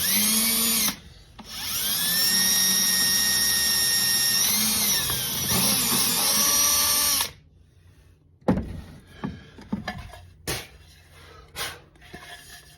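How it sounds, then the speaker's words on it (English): A power drill bores a hole for pistol mounts, its steady high whine running loud and close for about six seconds before cutting out, followed by scattered clunks and handling noises. "All right, let's get this first hole drilled."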